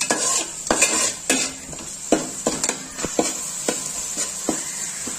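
Garlic chili powder, turmeric, salt and spices being stirred in a frying pan for Nandyal-style uggani, with a spoon scraping and clinking against the pan in repeated strokes over a soft sizzle, close and steady, with no talk.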